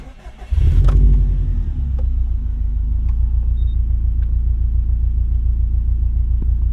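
A 2003 Subaru WRX STi with the EJ207 engine starting up: a short starter whir catches into a loud rumbling crank and flare, then settles into a steady, deep, loping idle nearby.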